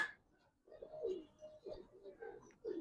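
Giribaz coloring high flyer pigeons, a mated pair with a female, coo faintly and close in a quiet space, several soft low murmuring calls separated by short pauses.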